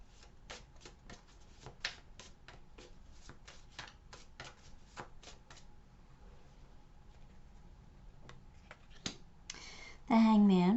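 Soft, rapid riffling and flicking of tarot cards being shuffled close by, a quiet run of ticks and rustles that pauses briefly before resuming, ending with a short louder burst of noise.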